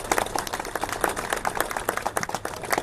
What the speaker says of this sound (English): How about a round of applause for Kevin in this?